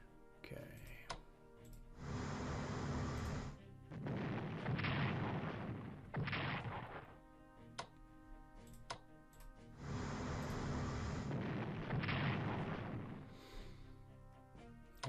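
Naval battle gunfire from the strategy game Strategic Command: World at War comes as two long, loud bursts of rumbling cannon fire, separated by sharp clicks and ticks.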